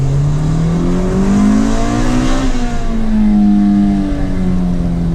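A 1998 Honda Integra Type R with a naturally aspirated engine accelerates hard. The engine note climbs steadily in pitch, dips briefly at a shift, then pulls again, loud and close, with no talking.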